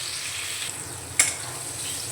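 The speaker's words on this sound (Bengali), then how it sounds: "পটলগুলো আমি অল্প লবণ দিয়ে ভেজে নেব।" Pointed gourd (potol) pieces fry in oil with salt and turmeric, giving a continuous close sizzle with one brief sharp clink partway through.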